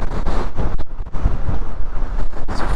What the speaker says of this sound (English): Wow, it's so windy here.